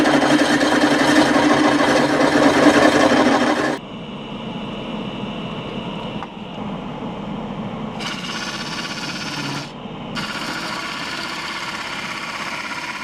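A drill bit boring into a wooden bowl blank turning on a wood lathe at about 350 rpm, with a steady whirring mechanical drone that drops in loudness partway through and then continues with a rougher grinding tone.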